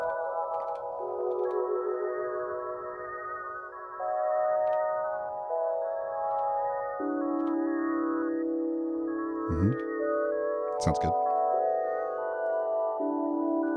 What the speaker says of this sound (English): Man, the Tonverk sounds so pretty.